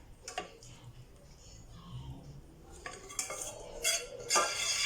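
A utensil scrapes around a cooking pot to gather the last tin fish gravy and chutney for a tinfish breyani, with scattered clinks and rasps that grow busier and louder toward the end.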